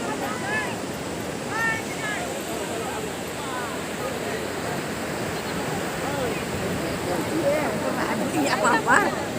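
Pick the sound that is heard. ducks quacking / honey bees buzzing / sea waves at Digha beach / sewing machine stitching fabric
sea waves at Digha beach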